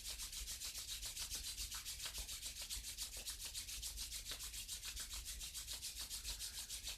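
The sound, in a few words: palms rubbing together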